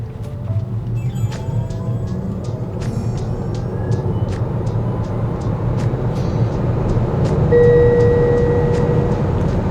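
A Tesla Model Y electric car drives along with a steady low road rumble, a faint rising motor whine, and occasional light ticking sounds.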